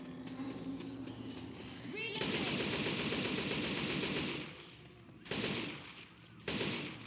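Automatic gunfire rattles in Left 4 Dead 2, a long loud burst followed by two shorter ones, with voices talking in between and underneath.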